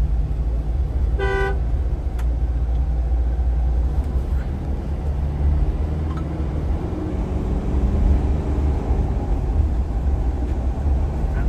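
A Mahindra Thar RWD driving along a road, steady low engine and road rumble from inside the cabin, with a horn tooting once from nearby traffic early on.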